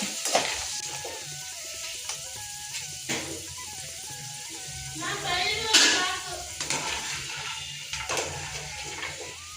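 Jackfruit seeds fry in oil with a continuous crackling sizzle and occasional stirring scrapes, while a person talks over the cooking.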